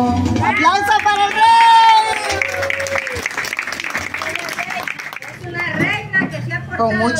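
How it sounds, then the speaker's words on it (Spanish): An audience applauds at a Day of the Elderly celebration, with clapping and crowd noise mixed under loud music and voices. "¡Aplausos!"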